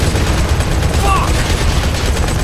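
Rapid automatic gunfire from the mobile shooter game Modern Combat 5, a dense continuous fusillade of shots mixed with explosions and battle noise, loud throughout.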